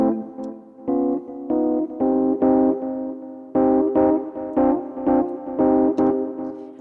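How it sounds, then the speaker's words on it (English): Rhodes electric piano chords with delay and reverb effects, played alone in rhythmic phrases of bright sustained notes with short gaps between them, loud and close. "So I'm gonna be using my Rhodes with a little bit of effects"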